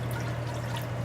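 Water pours into a cooking pot in a home kitchen while Persian barberry rice with chicken is made, a steady close trickle with a low hum in the background and no talking.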